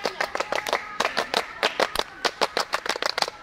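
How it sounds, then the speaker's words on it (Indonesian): A group of scouts at an outdoor Indonesian youth event performs the scout clap, a rhythmic pattern of sharp, close, loud claps in quick bursts repeated across a few seconds. "Mengawali kegiatan dua kali tepuk pramuka."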